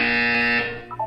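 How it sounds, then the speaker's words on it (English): A buzzer sounds in the video game Portal 2, a single loud, steady electronic tone lasting about half a second before fading, followed by a few faint trailing blips. "When you hear the buzzer, look up at the ceiling."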